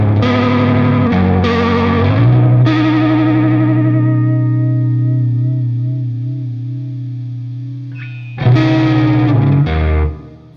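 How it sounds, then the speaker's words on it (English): Sustained notes played through a Vongon Ultrasheer pedal with the vibrato rate turned all the way up, giving a fast, wide pitch wobble that rings out and fades before a fresh chord is struck near the end. "So clearly the vibrato's got a pretty big range."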